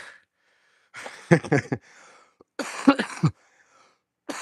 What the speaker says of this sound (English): it's so good to have like a nice cough in the morning